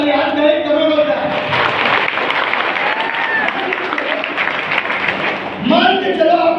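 Enthusiastic audience applause fills a motivational business meeting hall in Kukshi, Madhya Pradesh, a dense continuous wash of clapping that swells and holds for several seconds, with a speaker's voice breaking in over it near the end.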